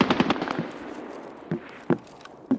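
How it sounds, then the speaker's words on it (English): Sharp gunshots from a video game firefight: a quick burst of several close shots at the start, then single distant-sounding reports spaced about half a second apart over a low rumbling background. "distant shots actually kind of sound like gunshots"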